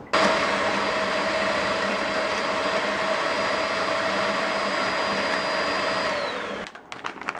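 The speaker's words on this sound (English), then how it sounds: "And I'm going to use the beater," An electric hand beater mixing margarine, eggs and cake mix, a loud steady whining motor hum running continuously for about six seconds before cutting off, followed by a few light clicks.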